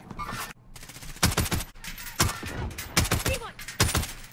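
Rapid gunfire in the video game Warzone, loud repeated bursts of shots in quick clusters, with brief gaps between volleys.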